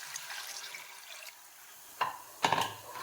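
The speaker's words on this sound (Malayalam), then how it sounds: "വെള്ളം ഒഴിച്ചു കൊടുക്കാം." Water poured into a hot pan for cooking noodles: a faint hiss first, then two short splashing gushes near the end, close and moderately quiet.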